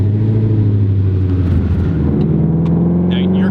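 A 2017 Shelby GT350R 1000R twin turbo drives off, its engine giving a loud, close, steady low rumble that builds slightly toward the end.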